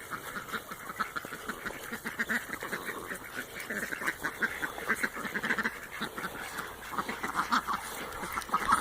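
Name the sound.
free range Muscovy duck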